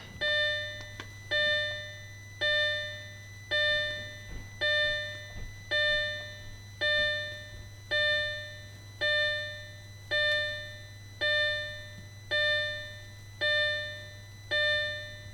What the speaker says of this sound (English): You guys will have to live with the annoying chime.